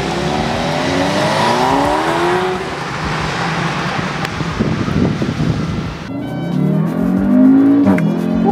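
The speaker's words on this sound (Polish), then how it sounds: "Launch control sprawia, że to przyspieszenie czuć bardzo mocno" An Audi TTS Coupe with a 2.0 TFSI engine launches hard using launch control, its engine note climbing loudly with wind and road roar, then a gear change and renewed rising revs.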